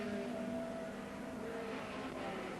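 1970 racing cars roar past on lap 2 of a BRSCC race, with a Ferrari overtaking Elford; a steady, loud engine drone fills the whole stretch, with no clear single pass-by swell.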